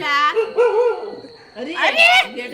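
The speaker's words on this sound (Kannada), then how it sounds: "ನಾಯಿ ಬಗ್ಲಿದೈತೆ" A dog at a wedding house gives close, loud yelping barks and drawn-out howl-like whines over about two seconds, mixed in with people talking nearby.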